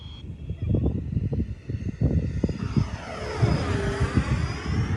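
XFly 80mm Alpha Jet RC model with ducted fan flying past at half throttle, a steady whooshing whine that swells and shifts pitch as it passes, with continuous wind rumble close to the microphone.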